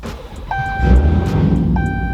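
Car engine cranking and catching, heard from inside the cabin with seats installed; a starter whir gives way to a steady low rumble, a chime beeping twice over it.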